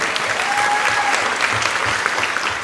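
A conference masterclass audience in Orlando claps loudly and continuously, a dense wash of applause with a few voices faintly mixed in.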